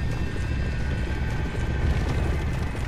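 Horse hooves clip-clop in a video game, a dense, steady clatter of hoofbeats that runs unbroken and fairly loud with a low rumble beneath.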